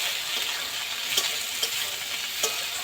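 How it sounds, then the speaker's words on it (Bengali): Chopped onion, torn green chilli and tomato fry together in hot oil in a pan, a steady soft sizzle with a few sharper crackles and scrapes of stirring, close and moderately quiet with no talking. "তেলের মধ্যে পেঁয়াজ কুচি দিয়ে দেব, কাঁচা লঙ্কা ছেঁড়া দিয়ে দেব, টমেটো কুচি দিয়ে দেব, দিয়ে এইগুলো সব একসাথে একটু ভেজে নেব"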